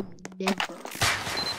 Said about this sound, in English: I'm going first person, and I'm using my guns. Even though I'm just using a revolver.